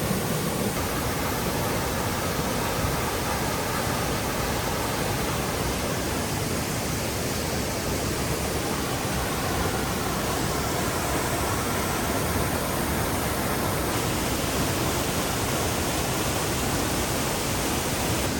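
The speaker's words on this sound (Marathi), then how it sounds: "ठिकाणी खाली पाणी पडतंय." A thick, even roar of cascading water from the Ceunant Mawr waterfall in Wales, loud and near, continues steadily for the whole stretch with no speech over it.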